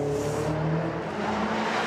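A car engine revs and pulls away, a steady loud drone with rising harmonic tones, close by with no talk over it.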